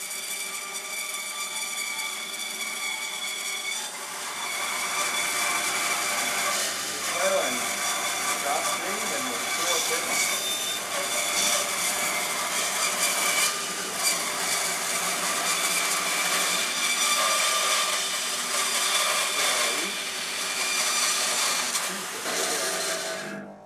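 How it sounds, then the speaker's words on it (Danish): A saw cuts steadily through wood to shape a ring, giving a continuous close rasping with small irregular strokes for over twenty seconds, and a voice talks over it at times. "så har jeg noget at save efter."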